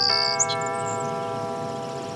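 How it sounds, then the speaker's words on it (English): A doorbell chime in a cyberpunk audio drama, pressed at a front door: a bright two-tone ding-dong followed by a long, steady ringing tone that sustains clearly on its own. "He presses a digit on the doorbell."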